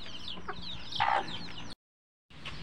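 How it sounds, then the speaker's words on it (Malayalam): A hen clucks in a backyard coop being cleaned, giving a run of soft, close clucks with one louder squawking burst, then a brief silent gap before the clucking resumes. "അന്നത്തെ വീഡിയോയിൽ കാണിച്ച കോഴിയാണ് കേട്ടത്"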